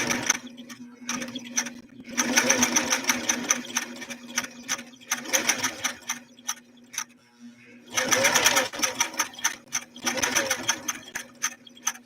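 A Singer Stylist sewing machine stitching with a steady whirring hum, speeding up in loud bursts and then slowing to pauses, with short stops and clicks in between.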